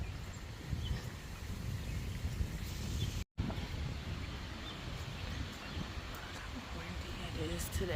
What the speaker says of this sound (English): Windy it is today.